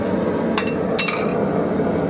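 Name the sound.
hammer hitting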